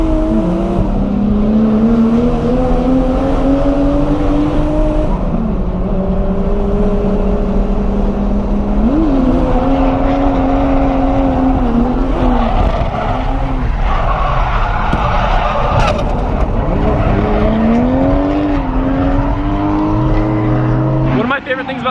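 A Toyota JZX100 drifts at Ebisu, its engine droning loud and near with rising and falling revs while tires squeal and skid almost continuously throughout.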